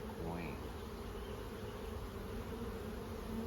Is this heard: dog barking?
no